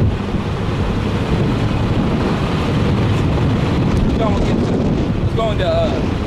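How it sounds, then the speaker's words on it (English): Strong outdoor wind buffets the microphone in a continuous, loud, low rumble, with brief bits of a voice near the end. "It's windy as hell out here"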